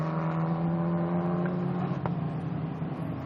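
Formula 4 race car on its lap of honour at Sepang circuit in a South East Asia Championship round, a steady loud engine drone holding one pitch throughout.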